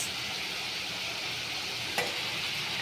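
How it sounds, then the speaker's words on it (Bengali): Onion and green chili fry in oil in a wok, giving a continuous close hiss with one brief sharp clatter partway through and nobody talking. "তেল দিলাম কড়াইয়ে এই যে পেঁয়াজ দিয়ে দিলাম"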